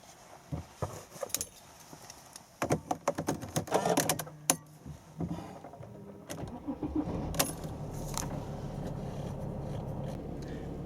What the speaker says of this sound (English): No trouble starting this car at all.